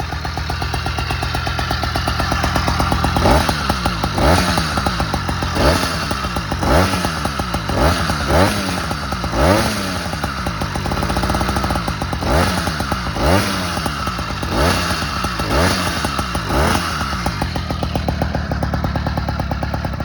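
A small motorized bicycle engine with reed valves, a windowed piston and a bigger carburetor runs close by with a rattling putter, repeatedly revving up and dropping back in rhythmic surges, with mechanical clatter and a slightly engaging clutch.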